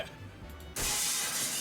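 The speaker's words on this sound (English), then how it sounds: "The chandelier crashed to the floor in full force, making a tremendous noise." In Limbus Company, a chandelier hits the floor with a sudden loud shattering crash, bursting out of a low rumble and holding as a dense, bright wash of breaking glass.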